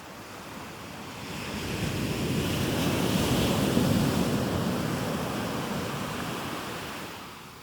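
Steady wind roars across a beach in Asturias, Spain, mixed with the broad wash of surf, swelling in the middle and easing again, with no voices.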